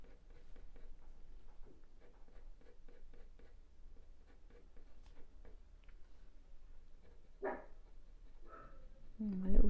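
A small Border Collie puppy barks and whimpers in two short bursts late on, the last one loud and close, over a quiet room with scratching and faint talk.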